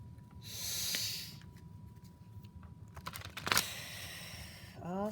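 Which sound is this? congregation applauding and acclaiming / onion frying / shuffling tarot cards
shuffling tarot cards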